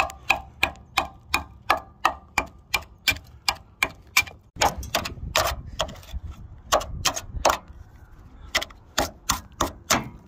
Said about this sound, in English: with some light taps of a screwdriver, I was able to make a hole here, a hole here